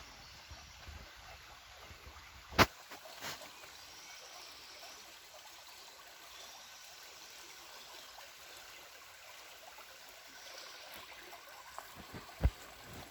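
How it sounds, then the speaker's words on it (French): A small stream trickles and flows steadily at low volume beside château grounds, with a couple of brief sharp knocks breaking the quiet murmur. "on entend ce petit ruisseau qui coule"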